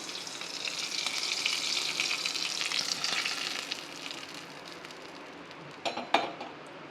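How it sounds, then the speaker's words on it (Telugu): Hot tempering hisses loudly as it hits the raw tamarind juice for pachi pulusu, then the sizzle fades. A few clinks of a utensil against the pot follow. "ఇప్పుడు ఈ చింతపండు రసంలో పోపును వేసుకుందాం"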